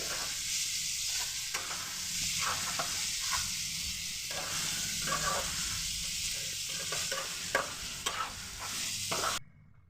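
Onions and tomatoes frying in a pan, a continuous loud sizzle with recurring spatula stirring and scraping strokes, close up and without voices, cutting off abruptly at the end.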